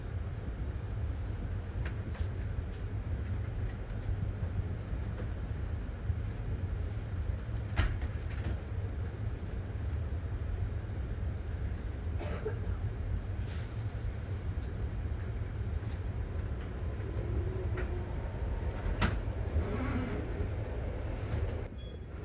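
Steady low rumble of the westbound Bergen Line train from Oslo passing on the track, a continuous rolling roar with faint metallic squeals and clanks that lasts throughout.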